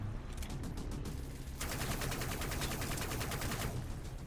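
Rapid bursts of video game gunfire in an online shooter match, loud and continuous, dense clattering shots shifting to a brighter sustained volley partway through, with no voices over it.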